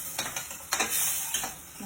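Masala thickened with gram flour fries in hot oil as a spoon scrapes and stirs the pan, giving a steady close sizzle broken by several sharp stirring strokes, with no talking.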